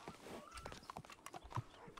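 Horse hooves in a video game set in 1920 make a quick, uneven clip-clop close by, with faint voices and game sounds underneath.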